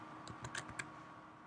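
Keys tapped on a computer keyboard while entering a lookup formula, a short run of about five crisp clicks over a second against a faint steady room hum.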